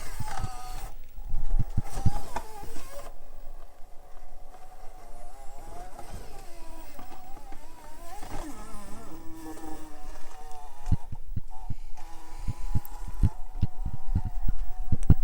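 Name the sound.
SCX24 RC crawler running, battery strap rubbing on motor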